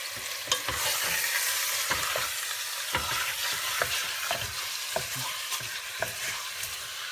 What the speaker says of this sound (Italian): vedete come frigge meglio adesso